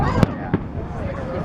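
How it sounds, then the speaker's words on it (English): Fourth of July fireworks burst twice in quick succession, sharp bangs about a third of a second apart over a steady crackling background, with people talking nearby. "These fireworks suck,"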